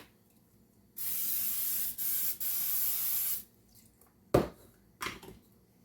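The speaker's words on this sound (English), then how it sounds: "Your cooking spray." A steady aerosol spray hisses for about two and a half seconds with two brief breaks, followed by a couple of soft clatters.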